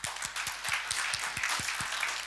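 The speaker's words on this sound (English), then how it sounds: "Big applause for them." An audience applauds at a university event, steady clapping with individual hand claps audible throughout, sustained and fairly dense for the whole stretch with no speech over it.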